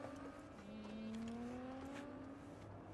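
Car engine in the Cyberpunk 2077 video game revving with a rising, sustained tonal whine, fairly faint and steady with a slight pitch climb, no talking over it.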